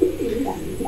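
A short, low pigeon coo, soft and close, a single throaty call lasting under a second.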